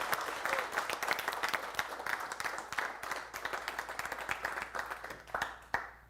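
A large class of executive MBA students applauds during a campus immersion session, a dense, steady clapping that lasts about six seconds at moderate loudness with a few sharper individual claps and then fades out.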